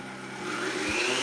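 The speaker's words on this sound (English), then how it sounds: "We have all of our ingredients except the oil in the blender. You're going to" A blender whirs as it mixes chickpea mayo ingredients, a steady motor drone that builds slightly in loudness over a short stretch without voices.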